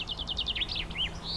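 Wild birds at garden feeders, including great tits feeding on peanuts, give a quick run of high chirps and whistled calls with repeated short notes that shift in pitch, close and clear over faint background hiss.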